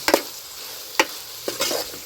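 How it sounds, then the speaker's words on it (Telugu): A spoon scrapes and stirs ginger-coriander paste in a pan for brinjal curry, with a few sharp clanks spaced apart and a soft sizzle in between, close by and with no talking. "అల్లం కొత్తిమీర కలుపుకుందామండి,"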